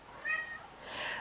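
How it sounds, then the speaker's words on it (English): A cat gives two short whiny meows in quick succession, the second slightly longer, close to the microphone in a quiet indoor room with no talking. "I also have a whiny kitty."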